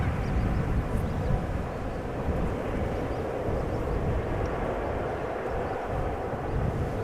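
A passenger airliner lands at Amsterdam Schiphol Airport on runway 06, a steady, loud, broadband roar of engines and rushing air that holds evenly throughout, heard from nearby with no voices.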